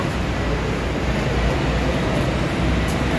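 A metro train rumbles at Yeshwanthpur in Bengaluru, a steady broadband roar of rolling rail noise filling the whole stretch at close range, with no talk heard.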